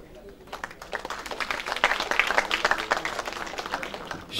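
An audience at an indoor cultural centre event breaks into applause, a dense patter of many hands clapping that builds and holds steady, fairly near, with a voice speaking over it.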